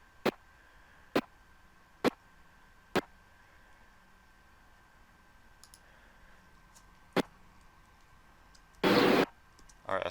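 Sharp mouse clicks while working in video editing software on a lightsaber effect: four evenly spaced clicks, a pause, then a fifth, followed by a short burst of broadband noise, all close and crisp over a quiet room.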